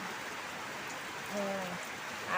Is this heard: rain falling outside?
yes